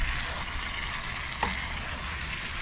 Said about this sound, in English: And we have to mix the bream with the curry